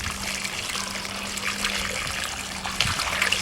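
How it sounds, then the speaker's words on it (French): Water poured from a basin onto a potted shrub gives a steady splashing trickle into the soil, continuous and close, with a few brighter splashes near the end. "L'opération suivante consiste à arroser la plante. Vous utilisez dans un premier temps l'eau de la bassine."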